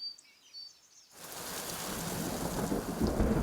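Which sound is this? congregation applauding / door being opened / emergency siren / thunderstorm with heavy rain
thunderstorm with heavy rain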